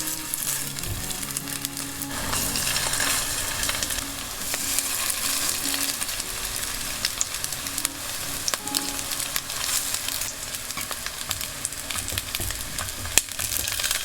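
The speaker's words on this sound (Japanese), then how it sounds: "混ぜたつくねの種を丸めて焼きます。" Chicken tsukune meatballs mixed with garlic shoots fry in a generous layer of oil in a frying pan, giving a continuous close sizzle and crackle with no talking.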